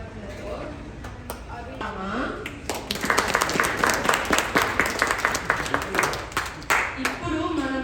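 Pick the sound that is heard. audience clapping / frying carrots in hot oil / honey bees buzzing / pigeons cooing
audience clapping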